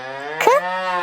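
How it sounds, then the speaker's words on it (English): A farm cow lets out a single sustained moo, close and loud, with a steady low tone that bends briefly in the middle and carries on alone to the end. "Cow."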